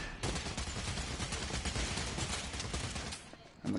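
Gunfire in the VR shooter Bravo Team, a dense stream of rapid shots and bursts, loud and continuous for a few seconds before a short drop, with no speech over it.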